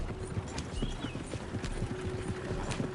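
Horses gallop in Red Dead Redemption 2, their hooves drumming a fast, steady clip-clop rhythm close by, with no voices over it.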